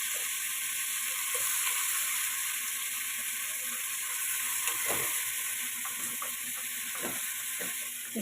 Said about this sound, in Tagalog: Ilagay natin yung ating manok guys. Ayan. Ganyan. Para maprito siya.